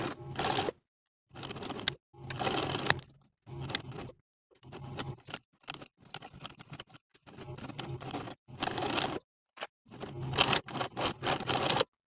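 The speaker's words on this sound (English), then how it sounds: "And then edge stitch along the upper edges for each carrier." A sewing machine edge-stitches belt carriers onto high-waisted trousers, running in short stitching bursts separated by silent pauses, close and fairly quiet.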